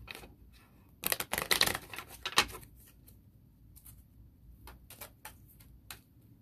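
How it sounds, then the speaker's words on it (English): Crisp bursts of tarot cards riffling and snapping together as they are shuffled, a dense flurry early on followed by a few scattered flicks, close by with no talking. "So I'm gonna shuffle these one more time"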